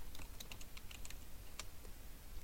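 Rapid typing on a computer keyboard, a quick irregular patter of crisp key clicks at close range, with no talking over it.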